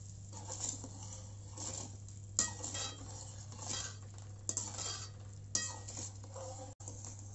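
Rock salt is stirred into water in a vessel, producing faint, close scraping and clinking taps of a utensil in uneven bursts over a low steady hum, with no talking.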